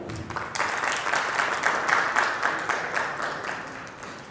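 A theatre audience at a national theatre festival in Jashpur breaks into steady, dense applause that swells after a moment and holds at an even level for several seconds, with no voices over it.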